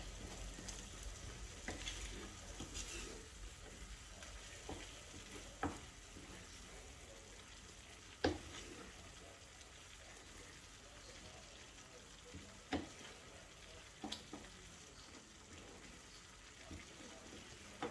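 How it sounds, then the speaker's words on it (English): Pasta sauce is stirred in a pan under a steady soft sizzle, with a few faint spoon scrapes and knocks against the pan now and then. "Okay, so you stir."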